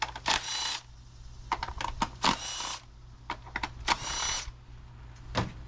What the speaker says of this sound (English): Go ahead and start zipping off all these 10 millimeters on here.